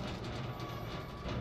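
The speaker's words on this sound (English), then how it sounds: "I gotta push the minecart" A minecart rolling along rails in Resident Evil 7, a steady, dense rumble with a metallic rail hum, continuous and without speech.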